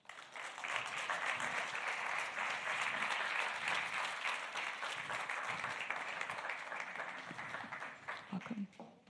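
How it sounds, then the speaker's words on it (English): A large audience at a conference panel on identity-based disinformation gives speakers a sustained round of applause, a full, even wash of clapping that swells quickly and tapers off with a few scattered claps at the end. "Give them a huge round of applause, Beatrice Marin Garcia and Bharat Ganesh."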